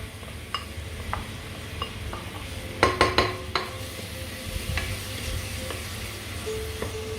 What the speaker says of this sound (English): Now whilst the onions are frying